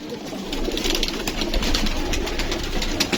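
Pet pigeons, two females and a male, kept by a hobbyist in Karachi, cooing and fluttering close by in a steady, busy stream with no talk.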